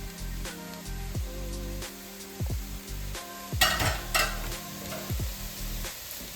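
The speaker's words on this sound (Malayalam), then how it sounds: "ഇനി നമുക്ക് നമ്മുടെ റൈസ്, നമ്മൾ വേവിച്ച് വെച്ചിരിക്കുന്ന റൈസാണ്, അതും ഇതിൻ്റെ കൂടെ കുറച്ചായിട്ട് മിക്സ് ചെയ്ത് കൊടുക്കാം." Cooked rice is stirred into a sizzling prawn mixture for fried rice, with a gentle fry hiss under repeated clanks and scrapes of a spatula against the pan, heard up close.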